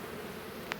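Honey bees fanning at the entrance of a beehive box, a steady close buzzing drone that stays continuous for about a second, with no talking.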